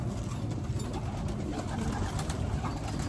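A pigeon hen in a breeder's loft coos softly and repeatedly, close by, over a steady background of other birds and loft ambience, with no talking.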